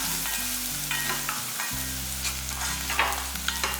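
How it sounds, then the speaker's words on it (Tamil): Onions sauté in a pan for a Tamil mor kuzhambu with ginger paste, making a steady close sizzle broken by scraping stirs, with a low constant hum beneath. "வெங்காயம் இந்த அளவுக்கு வதங்கினா போதும்."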